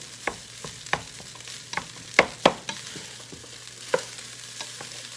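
Vegan fried rice with vegetables and oil being stirred in a hot pan: repeated scraping and clacking strokes at an irregular rhythm over a low steady sizzle, close and fairly loud, with no talking.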